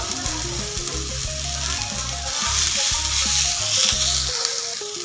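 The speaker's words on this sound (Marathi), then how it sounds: "अद्रक लसूण सुद्धा आपल्याला याच्यामध्ये टाकून थोडासा हलकासा परतून घ्यायचा आहे" Ginger and garlic sautéing in a pan for misal give a bright, steady sizzle that runs the whole way through, over a low rhythmic background hum.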